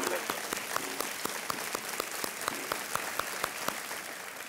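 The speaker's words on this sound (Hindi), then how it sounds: "हमारी यहाँ जनता यहाँ पर मौजूद है, वो तालियों के साथ आपका अभिनंदन कर रही है" A studio audience on a Hindi television quiz show (KBC) applauds steadily at moderate distance, a dense continuous patter of claps with a few sharper individual hits standing out.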